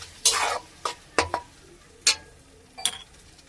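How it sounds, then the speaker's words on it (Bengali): Goat meat stir-fried with salt and turmeric in a pan gives a series of short scraping, sizzling strokes, about six quick stirs spaced unevenly, fairly close and moderately quiet, with no talking. "নুন হলুদ দিয়ে দিলাম। এবার আমি এটাকে এর সঙ্গে ভালো করে কষিয়ে নেব।"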